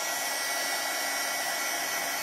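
A heat tool for paper crafting runs continuously while warming up, giving a loud, steady blowing roar with no break.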